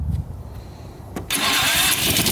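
A Honda HRX 217 lawn mower engine starts on its first start of the year: a few faint clicks and a quiet stretch, then a sudden catch into a loud, steady, close running roar.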